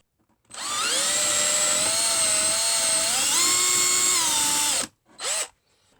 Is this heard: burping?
no